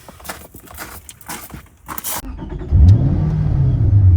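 A Ford GT sports car engine starts after some muffled cabin rustling and knocks, then a loud deep rev rises and settles into a strong throbbing drone as the car pulls away.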